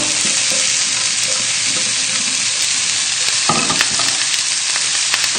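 Fish sizzling loudly in a hot pan on the hob, a steady crackling fry with a brief clatter partway through as it is turned.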